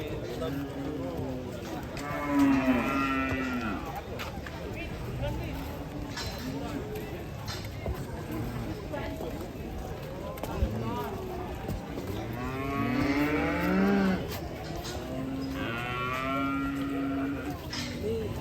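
A giant white cow moos at a busy cattle market, several long low calls rising out of constant crowd chatter and background bustle, with people talking throughout.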